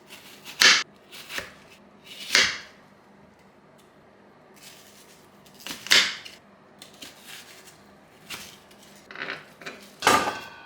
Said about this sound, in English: I first gonna divide this onion in half, and then I'm gonna divide this in 6 pieces like this